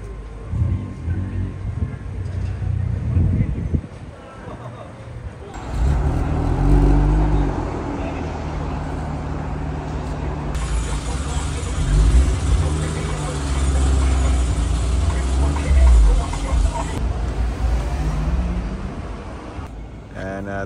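Bayside blue Nissan Skyline R34 GT-R, probably RB25-powered, rumbling up close at a Japanese car meet, its loud low engine note rising and falling over roughly twenty seconds while people talk nearby.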